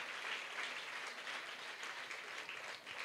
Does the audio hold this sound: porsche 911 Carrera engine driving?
no